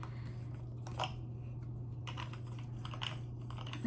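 Light, quick tapping and clicking on hard objects, close and irregular, over a steady low electrical hum.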